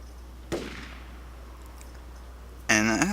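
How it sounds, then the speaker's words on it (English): A single sharp gunshot in Project Zomboid, a lone crack with a short decaying tail over a quiet, humming background, followed by a brief burst of voice. "gunshot, which basically kills one zombie in that direction, but it also causes a lot of zombies to congregate in that area"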